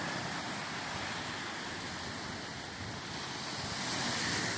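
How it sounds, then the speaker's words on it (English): Ocean surf washes onto the beach at Park Point Recreation Area in a dense, continuous hiss and roar that swells slightly near the end, with wind blowing across the microphone. "Here's our amazing beach that you can walk from all the way down there to all the way down there."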